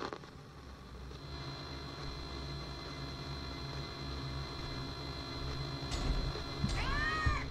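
A cat meows in the Animatronics Survival video game, a couple of short mewing calls near the end over a steady hum of game ambience.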